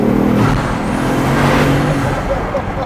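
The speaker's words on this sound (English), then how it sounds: "All right, let's go driving." A car drives along with loud, close engine and road roar that stays steady throughout, with a slight rise and fall like gentle acceleration.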